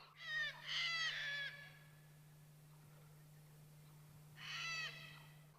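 Two bursts of hooting bird calls by a remote Kimberley river in Australia, one long series early and another shorter one near the end, with a steady low hum underneath and quiet between.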